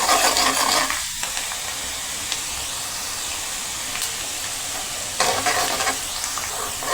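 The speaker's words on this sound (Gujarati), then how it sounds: "આપણે ડુંગળીને 2-3 મિનિટ માટે સડવા દઈશું।" Chopped onions sautéing in a pan for a bottle gourd and mango curry, a loud, even sizzle and hiss with a couple of louder bursts of stirring, no voices.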